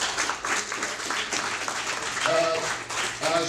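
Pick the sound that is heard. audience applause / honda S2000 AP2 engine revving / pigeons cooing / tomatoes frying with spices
audience applause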